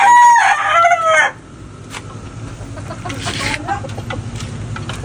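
A bulik gamecock lets out one loud, close crow, a rising-and-falling harmonic call lasting just over a second, followed by quieter farmyard rustling and low background noise.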